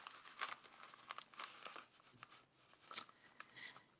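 Paper bags crinkle and crackle as they are folded for a scrapbook mini album, with soft, uneven rustles and a few sharper crisp snaps, close and quiet, with no talking.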